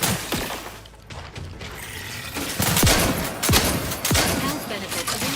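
Triple barrel gun firing in the Outer Worlds 2 video game: several sharp, loud blasts spaced irregularly, each with a metallic clatter and ringing tail over game ambience.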